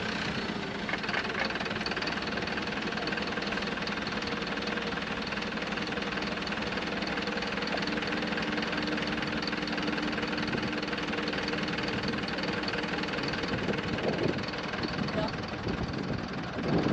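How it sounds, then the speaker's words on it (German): An Iveco Daily's engine drones steadily at a mid pitch with a knocking edge as it slowly tows a stuck Mercedes-Benz out of sand at Camp Retmet, continuous and fairly close, with voices talking over it. "spannen wir den Iveco Daily vor unseren Benz und lassen uns langsam rausziehen"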